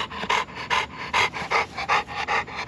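A dog pants rapidly and steadily in short rhythmic breaths, close and fairly quiet, with no voices.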